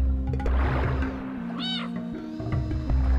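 A cat meows once in the video game Stray, a short rising call over a steady low game soundtrack and ambient hum.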